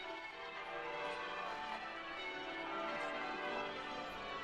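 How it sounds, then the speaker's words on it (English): The bells of Westminster Abbey peal continuously during the coronation procession of King Charles III in London, a dense, ringing wash of overlapping tones heard at a distance with no talk. "There the bells of Westminster Abbey pealing out for us"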